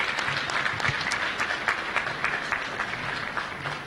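Audience at a formal labour migration event claps steadily, a sustained wash of applause with distinct individual hand claps audible, moderately loud and fading slightly toward the end.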